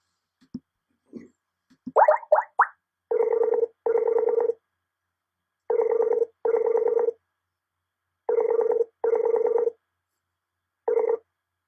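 Touch-tone telephone dialing: a few quick button blips, then evenly paced pairs of loud, clear DTMF tones pulsing alone before the call connects.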